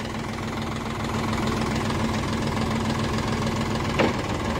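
A three-cylinder 40 HP tractor engine runs steadily while pulling a 7-foot rotavator, giving a continuous loud mechanical rumble with a knocking throb and a brief sharper clank near the end.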